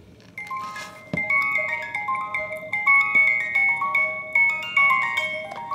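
A Reuge musical necklace pendant with a freshly serviced miniature music mechanism plays a delicate, tinkling melody of bright plucked comb notes, heard close up and alone in a steady, unhurried rhythm.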